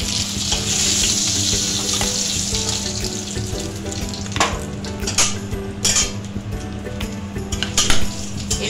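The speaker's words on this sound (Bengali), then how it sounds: "আর অল্প একটু ভেজে নিয়ে তারপরে কাঁকড়াটা নামিয়ে নেব।" Crab frying in hot oil in a pan, a steady close sizzle with occasional clinks of a utensil against the pan.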